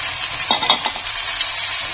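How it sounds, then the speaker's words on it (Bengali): Onions sizzle in oil with cumin and whole garam masala, giving a steady, close frying hiss with a few light clinks and stirring scrapes on top. "তার জন্য একটা সুন্দর এটা গোল্ডেন হওয়া অবধি আমরা ফ্রাই করবো"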